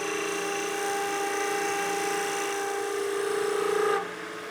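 A spindle gouge rides its bevel on a spinning wood lathe shaping a German smoker figure, producing a steady whining hum with a soft cutting hiss that holds evenly and then drops away near the end.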